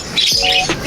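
A short parakeet call rings out, a bright chirp with a quick warbling phrase, close by and alone.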